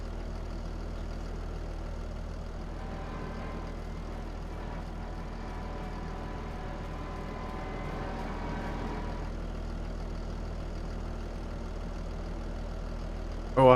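A tractor engine in Farming Simulator 25 runs at a steady low idle, a continuous rumble with faint shifting tones and no speech over it.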